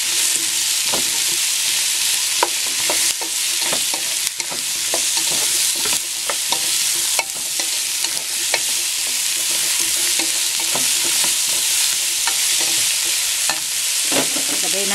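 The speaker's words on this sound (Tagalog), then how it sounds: "Haluin lang natin ito para magpantay yung pagkakaluto." Chop suey vegetables, including white and purple cauliflower, sizzle steadily in a hot pan while a utensil stirs them, with frequent scraping clicks over a loud, continuous frying hiss.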